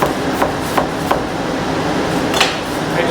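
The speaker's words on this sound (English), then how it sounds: "I just kind of diced it loosely like so" Knife loosely dicing vegetables on a cutting board at a summer harvest dinner cooking demo, several sharp chopping knocks in an uneven rhythm over a noisy outdoor background.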